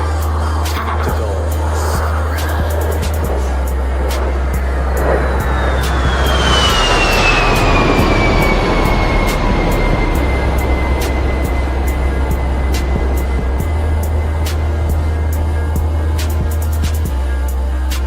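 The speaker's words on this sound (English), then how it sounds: "They can propel the A-10 with top speed of 450 knots." An A-10 Warthog jet passes at a Miami air and sea show, a loud continuous engine roar that swells and falls with a clear descending whine, over a steady low hum and faint crowd noise.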